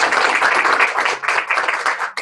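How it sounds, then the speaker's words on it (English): An audience gives a round of applause at a talk on overcoming conflict, dense steady clapping filling the room for a couple of seconds before a brief break. "Let's give a round of applause"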